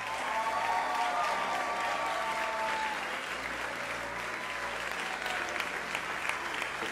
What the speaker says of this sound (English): That's worthy of some applause, I think.